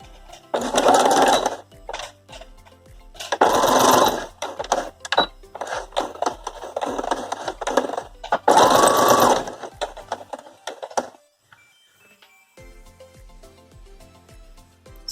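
Sewing machine stitching pieces of old cloth shopping bags together into a doormat, running in three loud bursts of rapid stitching with short pauses and small handling clicks between, then falling quiet near the end.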